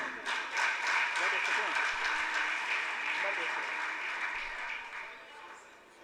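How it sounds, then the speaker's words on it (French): Audience at a school quiz competition in Cap-Haïtien applauds, a soft, continuous wash of clapping that fades slightly toward the end, heard at moderate distance. "Mais on applaudit quand même."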